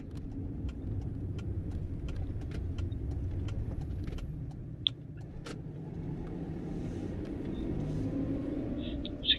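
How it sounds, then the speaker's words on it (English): On a village road, a car's low engine rumble holds steady throughout, moderately loud, with faint clicks and ticks scattered over it and no talk. "There's a car coming"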